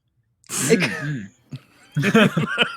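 A single sharp human sneeze bursts out close and loud, followed after a pause by a short breathy sound and then brief chatter or laughter from people nearby.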